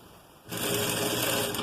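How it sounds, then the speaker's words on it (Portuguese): A sewing machine stitches a fabric facing on pajama-pant shorts, starting after a short quiet moment and running as a steady, close, loud mechanical whir to the end. "E eu venho costurando essa vista."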